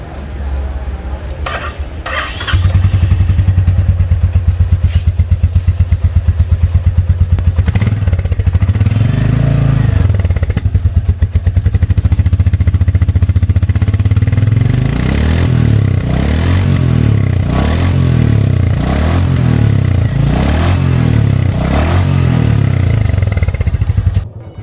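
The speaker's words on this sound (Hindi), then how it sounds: "मैं आपको इसके एग्जॉस्ट की साउंड भी सुनाता हूँ।" A Royal Enfield Meteor Fireball motorcycle with a changed exhaust starts up and idles with a deep, steady thump, then is revved several times in rising and falling bursts, loud and close.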